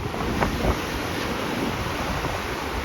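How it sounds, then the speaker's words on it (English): Strong, steady wind roars with crashing surf at Anna Maria Island during Hurricane Idalia, a continuous loud wash of blustery noise and breaking waves with heavy wind buffeting on the microphone. "Oh my gosh, it is so windy."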